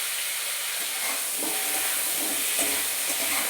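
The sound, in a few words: pumpkin frying in oil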